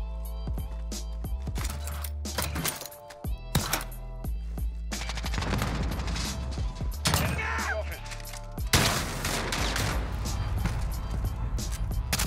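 Shotgun fire from an Origin 12 in a video game comes as loud, close blasts and rapid bursts scattered across the clip, mixed with game effects and a player talking at times.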